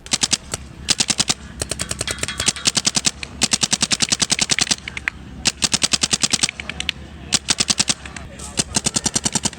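Rapid bursts of sharp, loud pneumatic shots from a J4 Torque paintball marker, each volley a fast string of clacking pops separated by brief gaps.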